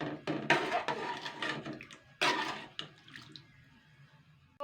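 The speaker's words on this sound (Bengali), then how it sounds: "নাড়াচাড়া করে নিচ্ছি জলটা একটু।" Boiling water with kochu loti (taro stolons) being stirred in a pot, giving close, irregular bursts of sloshing and swishing water with brief clinks, then quieter bubbling toward the end.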